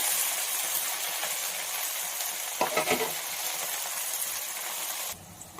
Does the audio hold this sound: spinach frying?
yes